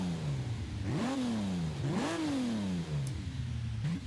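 A Lamborghini Sian's engine in the video game Forza Horizon 5, droning steadily near idle and then blipping its revs up and back down twice, loud and continuous with no talk over it.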